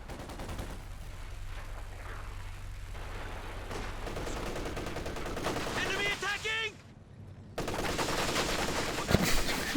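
Rapid bursts of machine gun fire crackle against sandbags in a Company of Heroes 2 battle, in dense layered volleys. A brief lull comes before the gunfire returns, with a voice partly heard over the din.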